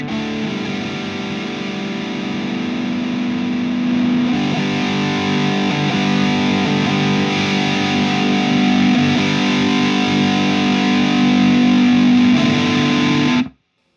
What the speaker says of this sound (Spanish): Distorsión prendida sin noise gate